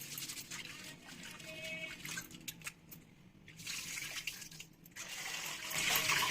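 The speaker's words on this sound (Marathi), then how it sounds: "आता तांदूळ स्वच्छ धुवून घेते." Rice being rinsed by hand in a vessel of water, faint sloshing and trickling with splashy bursts that swell toward the end, quiet and close.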